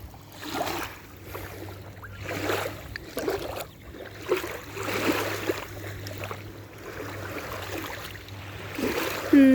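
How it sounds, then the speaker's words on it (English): A quahog clam shell is rinsed in water at a Guilford beach, with repeated soft splashing and swishing bursts close by against a faint background hum. "Here, I'll rinse it off."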